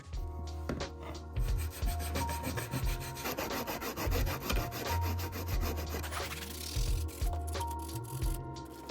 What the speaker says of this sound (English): This solvent did not help me clean the old glue and I use sandpaper.